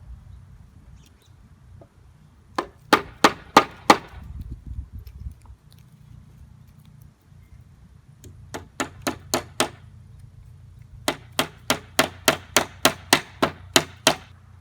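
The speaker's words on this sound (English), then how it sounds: "we're going to finish nailing it in" Nails hammered into the wood frame of a goat shelter: bursts of sharp, ringing hammer strikes in quick regular series, first four or five blows, then a pause, then two longer runs of rapid blows, close and loud.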